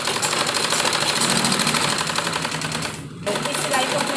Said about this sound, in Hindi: और अब हम फिटिंग की सिलाई देंगे, जो हमने फिटिंग की थी इसमें।